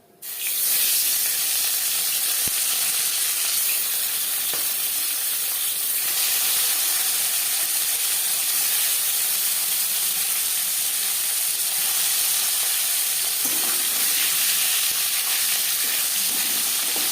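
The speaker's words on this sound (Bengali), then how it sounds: "পরের মাছ একইভাবে ভেজে নেব।" Fish fry in oil in a pan for a fish curry with cauliflower and potato, giving a dense, steady hiss close by that barely changes, with a few faint clicks.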